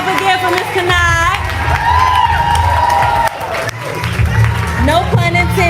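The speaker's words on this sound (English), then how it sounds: "Y'all clap it up again for Miss Kanai." A live poetry-show crowd claps, whoops and cheers loudly and continuously for a performer, with a host's voice talking over the noise.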